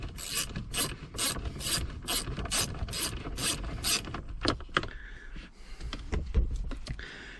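Ratchet unscrewing a bolt on a Toyota RAV4, a rapid run of about eight sharp clicks up close, followed by scattered metallic knocks and rubbing.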